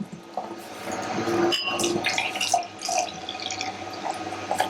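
Barrel-aged, dry-hopped wild Belgian blonde beer with pear being poured into a glass, a liquid gurgle and splash with trickling and fizzing, close and continuous, no voices.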